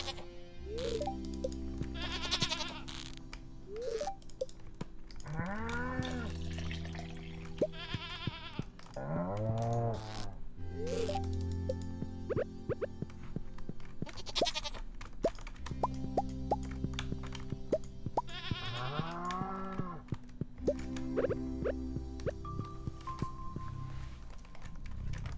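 Sheep in the Stardew Valley farming game bleat repeatedly in short wavering calls over steady background game music, with small plopping interface sounds scattered throughout.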